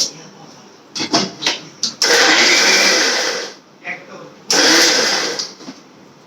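A mixer grinder whirs loudly while grinding masala paste for a fish curry with tomato, in short bursts then two long sustained runs, with talking between the bursts.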